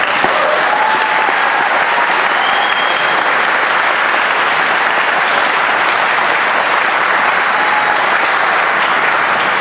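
Graduation crowd at the 2013 Woods Charter School ceremony bursts into dense, continuous applause mixed with cheering, loud and unbroken from start to finish.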